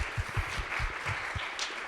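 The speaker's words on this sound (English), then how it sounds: "Can you please make a round of applause for all of us?" At a vaccine conference, a small group claps faintly and briefly for about two seconds, with scattered, uneven hand claps at some distance.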